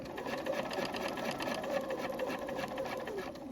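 A sewing machine stitches along the gathering lines of fabric for a sewn top, giving a steady, close, unbroken mechanical whir with fine rapid needle chatter and no talking.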